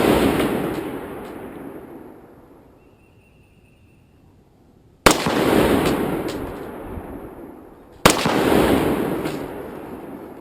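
Three loud rifle shots ring out outdoors at a range with an EOTech sight, spaced a few seconds apart, each a sharp crack followed by a long rolling echo that fades slowly.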